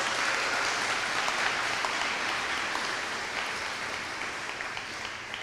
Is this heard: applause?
yes